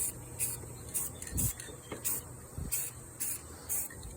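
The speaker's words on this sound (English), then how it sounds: "shook up the can for a while. Let's see how this looks. Put a light coat on it." A shaken spray paint can laying down a light coat of blue on a mod project, heard as a string of short, even hissing bursts at a regular pace, close by and alone, with a few soft knocks underneath.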